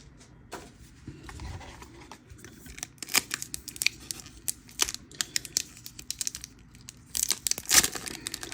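Lorcana Shimmering Skies booster pack being torn open, a run of sharp crinkly foil rips and rustles coming in repeated bursts, close up and fairly quiet, with no speech.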